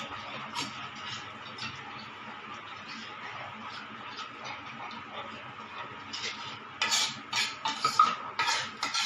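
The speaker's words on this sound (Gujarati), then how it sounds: "એ નાખીને એને હલાવી દઈશું આપણે" Gravy being stirred in a pan after green chili sauce and soy sauce go in, with soft continuous scraping and light clinks of a spoon against the pan that grow louder and sharper near the end.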